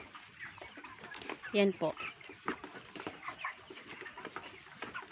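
Broiler chickens on a Philippine farm, 32 days into a 45-day grow-out, cluck softly in short scattered calls, with one sharper call near the middle, under someone talking steadily throughout.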